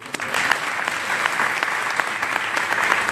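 Audience applause fills the room at a church testimony event, a steady dense wash of clapping hands from a crowd that holds at an even level throughout, with no voices standing out above it.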